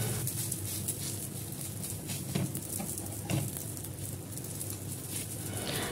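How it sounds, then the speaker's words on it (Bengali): A paratha fries in oil in a pan, with a steady low sizzle and soft occasional stirring or scraping taps running continuously, without speech. "তেলের মধ্যে আমি রুটিটা দিয়ে দিলাম, তারপরে ওপর থেকে 2 থেকে 3 চামচ মতন মিশ্রণটা দিয়ে দিলাম।"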